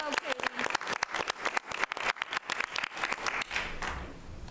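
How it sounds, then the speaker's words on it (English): At a school board meeting, people clap for a student state champion. The sharp, uneven claps come from a small group nearby, and a voice is heard at the start. The clapping thins out toward the end. "let's give her a huge round of applause"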